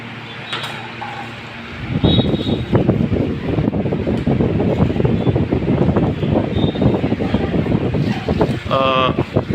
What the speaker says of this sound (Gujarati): બહુ સરસ આનો પવન આવે છે.